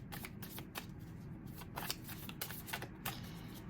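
Tarot cards are shuffled close by, a quiet, steady riffling with soft card slaps at irregular intervals over a low background hum.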